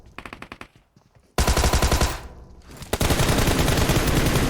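Automatic gunfire in a shooter video game, a short rattling machine-gun burst, a pause, then long loud sustained bursts of rapid shots, close and dominant with no talk.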